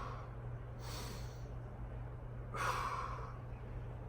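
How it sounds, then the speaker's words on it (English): A big breath drawn into the belly during a hip stretch, heard as two broad, soft breathy swells a couple of seconds apart over a steady low hum. "Taking some big breath in my belly."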